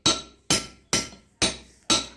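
Five sharp, evenly spaced metal hammer blows, each ringing briefly before decaying, as a bearing is driven into the cover of a 1 HP electric motor; loud and close, with no talking.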